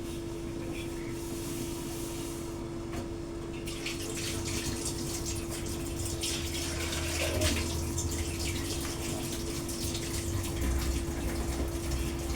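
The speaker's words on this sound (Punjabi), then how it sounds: "ਮੈਂ ਡੱਬੇ ਜਿਹੜੇ ਧੋ ਕੇ ਧੁੱਪੇ ਰੱਖ ਦਿੰਨੀ ਆ" Tap water runs steadily while lunch boxes are washed under it, a continuous close splashing rush that swells slightly midway and carries on without a break.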